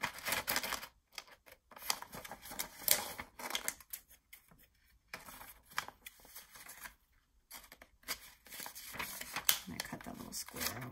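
Scissors snipping folded paper close by, with bursts of rapid crisp cuts and paper rustling separated by short pauses, plus someone speaking over them.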